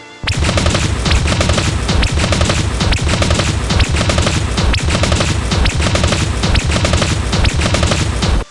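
Sustained machine gun fire in the video game Dragon Raja, a loud, dense fusillade of rapid shots with regular bursts running nearly continuously, backed by a steady battle soundscape and music.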